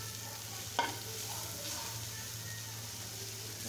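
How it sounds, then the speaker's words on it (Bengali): Sliced bitter gourd fries softly in a pan, a faint steady sizzle with one sharp scrape of a spatula stirring near the start, quiet and without talk. "আর 2 মিনিট ভাজলে আমার উস্তে ভাজি করা হয়ে যায়।"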